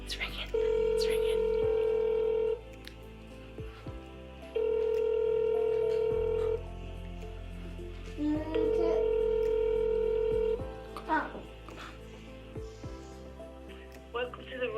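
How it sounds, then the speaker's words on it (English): Outgoing-call ringing tone to the Royal College of Surgeons, three long steady rings with gaps, fairly clear over faint room noise, followed by a recorded reception greeting beginning at the end. "It's ringing."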